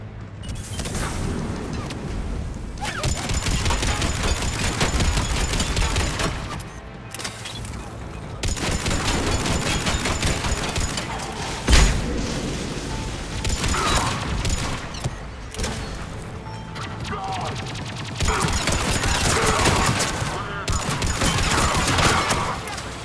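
Armor-piercing rounds fired in Mass Effect 3, a dense, continuous fusillade of game gunfire with booming impacts in several long bursts, broken by short pauses, with a single sharp crack partway through.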